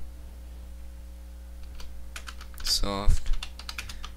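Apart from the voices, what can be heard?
typing on a computer keyboard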